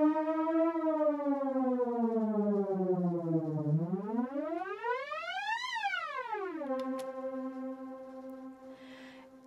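A synth tone in Logic Pro with its pitch bend raised four octaves: a loud, buzzy sustained note that slides down, sweeps sharply up, then drops and holds steady, like a siren, with no voices.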